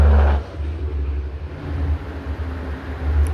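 Road traffic in a jam: a steady, loud low rumble of idling and slowly moving vehicles with broadband noise, surging slightly at the start and end, with no voices.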